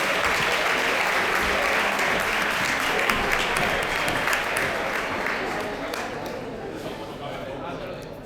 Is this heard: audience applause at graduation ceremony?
yes